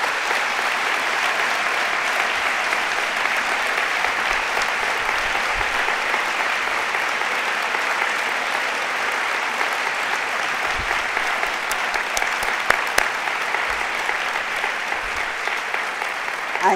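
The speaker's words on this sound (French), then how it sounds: "Et je vous demande un immense applaudissement" Long, dense applause from a large crowd at a closing ceremony for athletes and volunteers, even and sustained for the whole stretch with a few sharper claps rising out of it.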